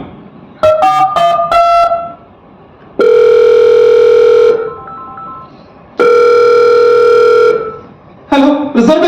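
Telephone call to a bank: a quick run of dialing tones, then two long, loud steady ringback tones separated by a pause, and another burst of tones at the end.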